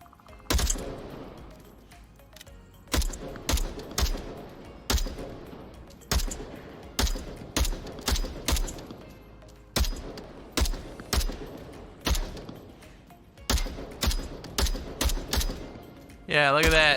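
AK-5C rifle with a magnifier sight fired in a VR video game, a series of sharp, loud single and burst shots at irregular intervals, heard up close.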